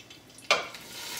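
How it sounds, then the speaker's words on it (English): Tofu hits hot oil in a pan with a sudden burst of bright sizzling that settles into a steady, quieter crackle. "Oil sizzling. So I'm going to add my tofu"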